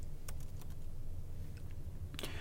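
Computer keyboard typing while entering a router configuration command, a few soft, sparse keystrokes over a low steady hum, ending in a quick burst of keys.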